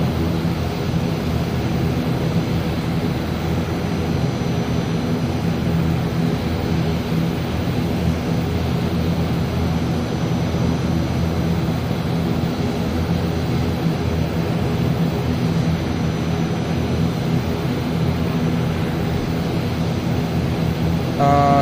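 A32N airliner engines in a Microsoft Flight Simulator session hold a steady, loud whining drone with a low rumble before takeoff, unbroken for the full stretch and without talk.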